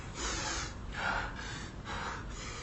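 A person takes deep, slow breaths, three audible airy inhalations and exhalations in a row, close and fairly soft, with no speech.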